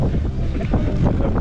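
Strong, cold Crimean wind blasting straight into the mic on a roadside stop, a continuous dense rumble with gusty swells and no talking.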